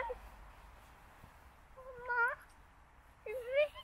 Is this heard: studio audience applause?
no